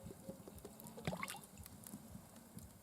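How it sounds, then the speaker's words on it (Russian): Cooking oil trickles down the inner walls of a kazan in a faint, uneven pour, with soft drips and gurgles scattered over a quiet background. "Сейчас добавляем масло вот так по стенкам осторожненько."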